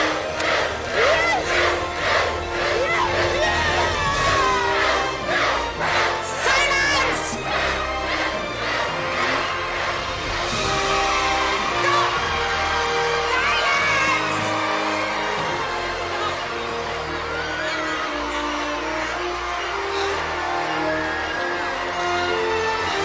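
Crowd cheering for Bruce in a Geico ad: a large, loud, sustained roar of whoops, yells and shouts, with rhythmic chanting pulses early on.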